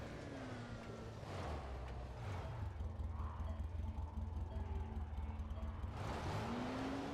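A car engine roars steadily in the zombie survival game Dying Light, a sustained loud drone with shifting pitch that swells and holds near the listener, with no talking over it.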